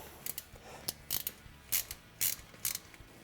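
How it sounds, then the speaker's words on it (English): A thread tap is rocked back and forth in a hole for a motor mount plate on a Polaris RZR XP 1000, producing sharp metallic clicks and short grinding ticks in irregular bursts, close and clear. "it's good to rock the tap back and forth"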